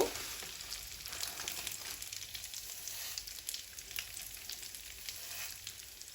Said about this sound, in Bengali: বাদামগুলো হালকা ভেজে নিয়ে এর মধ্যে এখন আমি সেমাইটা দিয়ে দিব